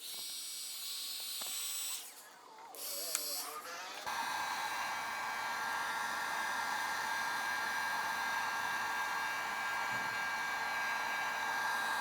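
A heat gun blows steadily while softening and removing a convertible top from its frame, a continuous close hiss-like roar that starts after a brief quieter stretch and then holds level throughout.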